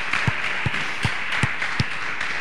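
A church congregation applauds the Lord in a handful of sharp, evenly spaced claps over a steady hiss of room noise, with no voices.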